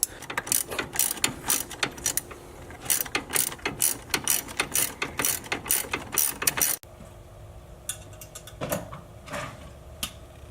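A socket ratchet clicks rapidly in close, bursty runs while removing a brace on a Nissan Z33, then quieter intermittent clicks follow.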